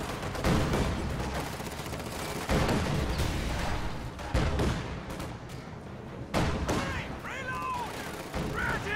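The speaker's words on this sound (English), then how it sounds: "Incendiary artillery being dropped right here." Incendiary artillery landing in a video game match, a run of loud booming impacts and crackling blasts that come in heavy waves, with a few sharp bursts between them.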